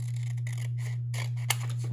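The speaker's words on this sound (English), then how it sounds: "I'm gonna cut it with the straight scissors on the side." Straight scissors cutting through an old book page, a steady crisp scraping snip with one sharp click near the end, over a constant low electrical hum.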